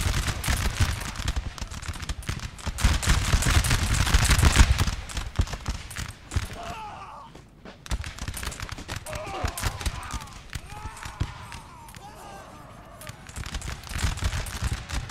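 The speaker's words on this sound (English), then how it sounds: "France on this side, though, is still in a bloody firefight here." Cannon and musket fire from a Napoleonic battle in Napoleon Total War, dense crackling volleys with heavier booms, loudest early then easing into scattered distant firing, with a voice talking over parts of it.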